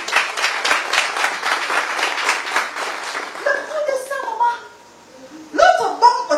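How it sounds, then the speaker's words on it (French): Audience applause at a comedy stand-up show, dense clapping for about three seconds before it thins out into scattered claps, a few spoken words and a burst of laughter and chatter near the end. "Si vous voulez applaudir, c'est synchro."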